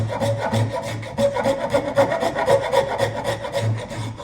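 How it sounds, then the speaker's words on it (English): A hand rasp shaping a wooden blank, giving a steady run of coarse rhythmic scraping strokes close up, with no talk. "now I just go over to my rasp and start shaping it"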